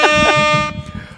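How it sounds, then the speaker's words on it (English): A loud, sustained air horn blast sounds in the studio, a buzzy honking tone with a brief stutter at the start, then cutting off and fading into low room noise and faint voices. "Air horn."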